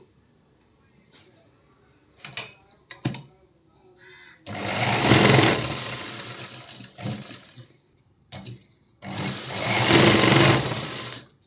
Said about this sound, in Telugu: ఇప్పుడు ఈ నెక్ని మళ్ళీ రౌండ్ మీద ఇలా అయితే ఒక స్టిచ్చింగ్ వేస్తున్నాను.